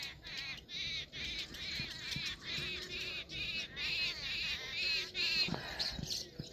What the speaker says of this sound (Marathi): आणि यांचा पिल्लाचा किलबिलाट सकाळी सकाळी या फुलांच्या झाडावर पाखरं बसलेले आहेत.